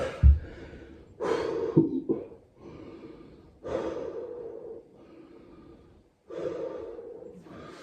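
Heavy, ragged breathing after one-arm push-ups: loud gasping breaths and sighs come in bursts with pauses between, close to the microphone, with snort-like exhales.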